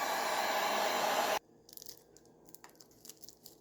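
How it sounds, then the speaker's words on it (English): A heat gun blows a steady, loud whoosh over shrink-wrap packaging on a handmade soap bar, then cuts off abruptly, leaving faint crinkling and handling noises. "Make sure that your heat gun is moving constantly and is at least 5 to 6 inches away."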